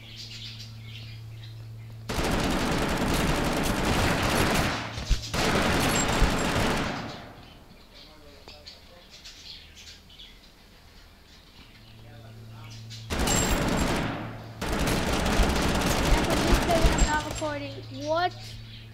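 Video game gunfire comes in four long, loud bursts of rapid automatic shots, split by quieter stretches with faint chirps and rustling.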